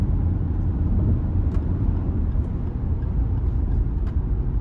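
2024 Lexus RX500h F-Sport hybrid SUV on the move, a loud, steady low rumble of engine and road noise from inside the cabin, unbroken and without speech.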